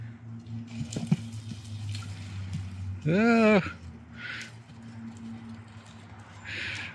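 Horses shift about outdoors with soft thuds and hoof sounds, and one lets out a short whinny partway through; a person talks faintly nearby.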